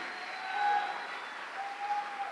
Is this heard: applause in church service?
yes